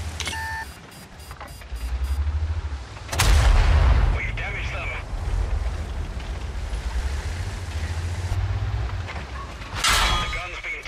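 Tank cannon fire in World of Tanks, a Centurion AX trading shots in battle: heavy booming blasts, with one big loud burst near the middle and another toward the end, over a steady low engine rumble and background battle noise.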